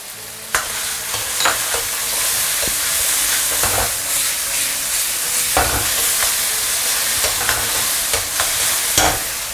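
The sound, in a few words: ginger, garlic and shallots stir-frying in a wok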